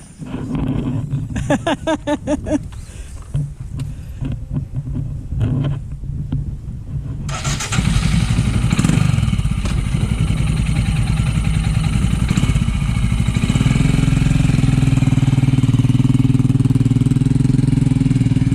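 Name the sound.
Royal Enfield Himalayan motorcycle engine being ridden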